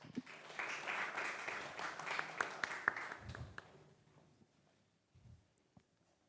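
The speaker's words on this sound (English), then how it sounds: "Please give a round of applause to Tiago." A conference audience applauds as a speaker is invited on stage, with a few seconds of clapping that thins out and fades into quiet room sounds and faint footsteps.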